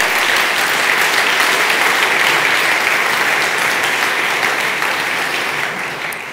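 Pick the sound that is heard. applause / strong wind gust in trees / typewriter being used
applause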